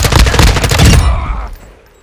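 Automatic gunfire in the shooter game Modern Warfare 2, a loud close burst of rapid rattling shots for about a second before cutting off into a fading echo.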